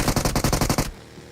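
Rapid automatic gunfire in a shooter video game, a close, loud burst of about eight evenly spaced shots that stops abruptly, leaving quiet background.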